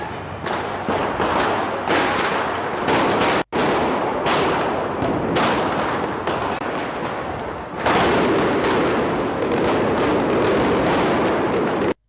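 A mascletà firecracker barrage goes off at city hall during the Valencia Fallas: a dense, relentless, loud stream of cracks and booms, close and saturated, with one brief break and a heavier surge near the end.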